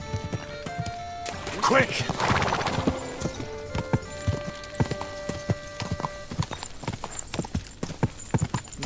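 A horse in Kingdom Come: Deliverance II clip-clops at a fast rhythmic gait, hooves striking steadily and close, with a neigh and a rider's voice urging it on over the pounding.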